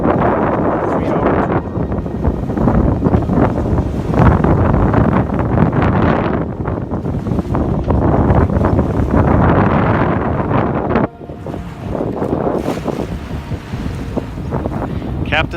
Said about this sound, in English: Sailing vessel Squall.